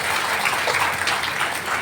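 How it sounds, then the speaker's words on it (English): An audience at a formal ceremony claps in a brief, dense, steady burst of applause with no voices over it. "Applause."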